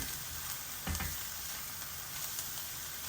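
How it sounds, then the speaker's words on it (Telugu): Fenugreek seeds roasting lightly in a pan, being readied for grinding into powder for an egg pulusu, give a steady, soft, close sizzle with small crackles throughout, and no one is talking. "ఇప్పుడు మనం మెంతుల్ని లైట్గా వేయించుకొని పౌడర్ చేసుకుందాం"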